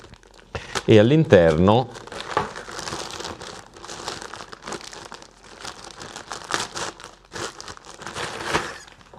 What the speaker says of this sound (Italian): come vedete abbiamo la confezione completa, l'apriamo